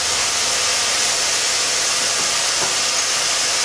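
Steady broadband rushing hiss of a vacuum chuck pump holding a wood platter on a lathe, continuous and fairly loud with no breaks.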